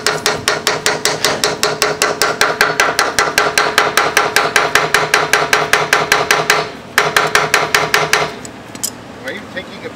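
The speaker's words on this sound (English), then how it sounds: "Hammer it in slowly." A hammer drives a wheel hub onto a boat trailer axle in rapid, evenly spaced metallic blows, loud and close, with a brief pause before a final burst and then quiet.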